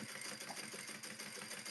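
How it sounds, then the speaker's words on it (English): Sewing machine stitching closed a garment lining, a faint, fast, even mechanical whir and patter that runs without a break from start to finish. "Back to sewing. Here we go. I'm going to close up my lining."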